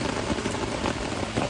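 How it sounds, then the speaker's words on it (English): Heavy rain pouring onto a tent along the Appalachian Trail, a dense, steady hiss of drops close overhead with no voices. "it's pouring rain, and it just started raining maybe 15 minutes ago"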